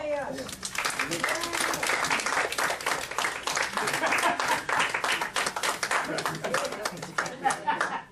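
Dense, sustained applause and clapping from an audience of participants, steady and close for the whole stretch with a few voices and light chuckles mixed in.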